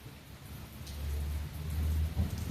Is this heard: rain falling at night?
yes